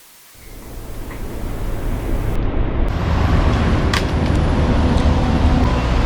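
A Pontiac Fiero project car, just fitted with its body, on its first drive along a road, giving a steady broadband rumble of engine and road noise from inside the cabin. The noise builds over the first second and then holds.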